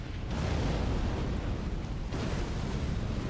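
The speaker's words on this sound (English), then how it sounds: "I think that one's both an explosion and a shockwave." A loud, sustained rumbling blast from an explosion and shockwave in the video game Elden Ring, a dense roar that fills the whole moment with a fresh surge partway through.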